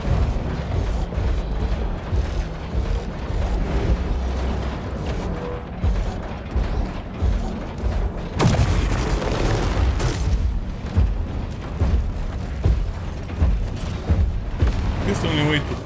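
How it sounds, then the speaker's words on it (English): Robots firing volleys of missiles in the video game War Robots: Frontiers, heard as dense, continuous booming explosions and mechanical clanking that swell louder around the midpoint and stay busy throughout. "I'm not sure how they're managing to fire so many missiles."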